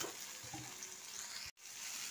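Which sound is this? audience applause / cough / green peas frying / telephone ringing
green peas frying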